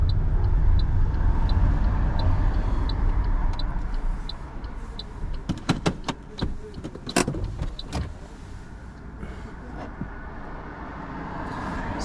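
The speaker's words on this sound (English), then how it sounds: "I'm going to be parking up on the left hand side of the road" A car pulling over to the left side of the road and slowing to a full stop, steady engine and road rumble inside the cabin with a few clicks and knocks near the end.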